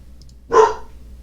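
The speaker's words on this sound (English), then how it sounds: "My dog is being quite loud right now" A dog gives a single loud, close bark that rises sharply and fades quickly in an otherwise quiet room.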